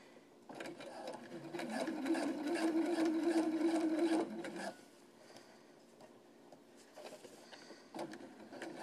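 A sewing machine topstitches an AIO cloth diaper, a close, even mechanical whir that runs for about four seconds, then falls away into quiet fabric handling and small clicks before starting again briefly near the end.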